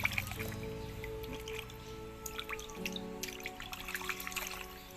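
Water rinsing jelly out of a large glass jar: soft trickling and dripping with small squishy splashes, faint and close, over a low steady hum, no voices.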